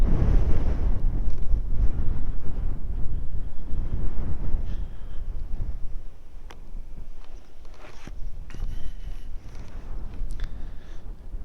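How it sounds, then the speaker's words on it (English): Wind buffeting a helmet with the visor up while riding a 2022 Harley-Davidson Forty-Eight motorcycle, a loud rough low rumble with gusty roar throughout, easing somewhat midway, with occasional clicks and rustles. "with the visor up you can probably just hear the wind"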